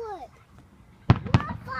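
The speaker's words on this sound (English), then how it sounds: "One firework. Wow. One firework." Two sharp firework bangs burst in quick succession in a backyard during a home fireworks party, loud and close, with excited voices talking before and after.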